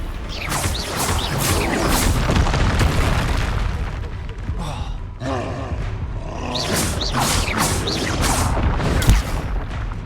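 Confringo blasting spell explosions in Hogwarts Legacy, loud booming bursts and crackling blasts repeating through a dense, rumbling combat mix, with a voice casting spells.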